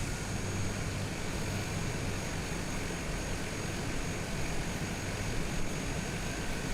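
A Cessna C208 turboprop in Microsoft Flight Simulator drones with a loud, steady, broadband propeller and engine roar from the cockpit, unbroken throughout with no talk.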